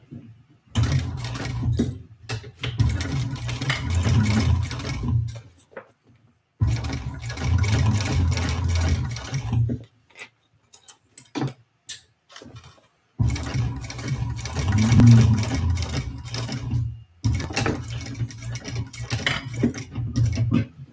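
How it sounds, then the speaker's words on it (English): A sewing machine top stitches a Victory Bowler Bag. The motor hums steadily through three long runs of several seconds each, separated by short pauses, with no talking. "now I'm going to top stitch right here"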